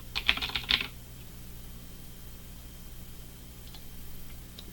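A brief burst of keyboard typing opens the clip, then the room falls quiet apart from a steady low hum and a couple of faint later clicks.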